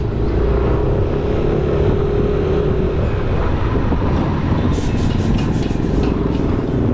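A car travels along a highway, its loud, steady road and engine roar filling the whole stretch, with a brief series of light ticks appearing near the end.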